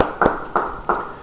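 Four slow, evenly spaced hand claps ring out one at a time during a church sermon, sharp and close with a quiet room between them.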